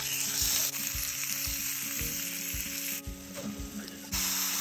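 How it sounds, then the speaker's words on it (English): Fish fries in butter in a hot pan, giving a loud, continuous close sizzle with rhythmic scraping knocks as it is stirred or moved. "Pan, butter, fish."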